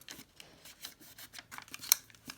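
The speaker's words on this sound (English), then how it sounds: "So just folding this edge down, this mountain fold will become a valley fold" Paper being creased and folded into an origami dolphin, quiet close-up crinkles, rubs and soft taps in an irregular rhythm, with one brief sharp crackle.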